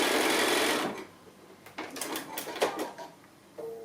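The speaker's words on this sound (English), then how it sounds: "So just sewing on that drawn line." A sewing machine stitches quilt strips made from 2 1/2 inch pieces along a drawn line, running steadily for about a second, then pausing before several short bursts of stitching with light clicks and handling noises.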